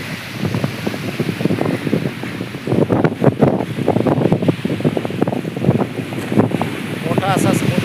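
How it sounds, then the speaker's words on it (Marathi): Wind and sea at a beach in Tarapur Chinchani with boats nearby: a steady rush of wind and surf runs throughout, largely buried under continuous close talking. "मोठा असा समुद्र आहे हा, भरपूर मोठा समुद्र आहे"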